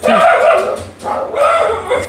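A dog barks in short loud bursts close by during a live health check-in, with sharp yips repeating over about two seconds.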